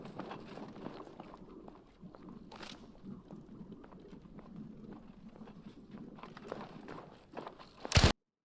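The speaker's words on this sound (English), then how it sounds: "This game is loud when it comes to footsteps." Footsteps in the video game Battlefield Firestorm thud loudly and steadily in a running rhythm, with occasional louder impacts and a sharp burst at the end.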